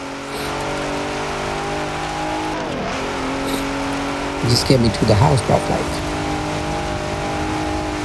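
Ford F-150 Raptor engine in Forza Horizon 4 drones steadily, then revs hard in a few rising bursts midway before settling back to a constant hum, while someone talks over it.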